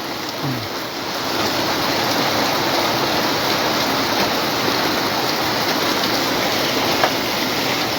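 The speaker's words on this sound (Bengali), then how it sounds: "দেখো প্রচুর বৃষ্টি পড়ছে" Heavy rain pouring down outdoors during flooding in Vizag, a dense, steady roar of hissing water that fills the whole stretch, loud and close, with no voices.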